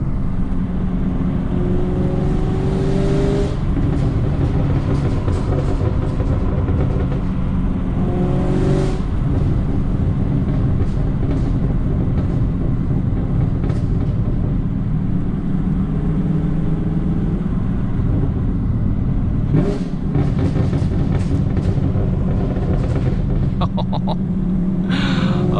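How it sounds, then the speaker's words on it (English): Camaro LT1 with a popcorn burble exhaust tune heard from inside while driving, a steady loud engine drone with scattered crackling pops and burbles, strongest near 9 and 20 seconds. "Really hear the burbles in these trees."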